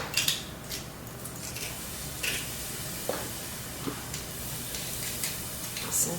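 Minced garlic sizzling in a hot pan, a soft continuous frying hiss with a few light clinks and stirring scrapes, quiet and close.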